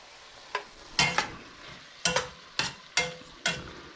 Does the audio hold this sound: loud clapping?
no